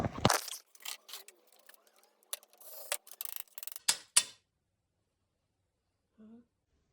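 Cutting into a damaged double-glazed window unit, likely through its seal, gives short scraping and snipping bursts of varied length, close and fairly quiet, thinning out toward a brief faint sound near the end.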